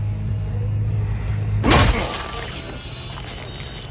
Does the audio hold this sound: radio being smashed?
yes